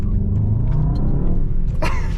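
A Mercedes S63 AMG E-Performance with an 802-horsepower V8 hybrid powertrain rumbles close by in a short, steady, deep burble, loud and unbroken, with no voices.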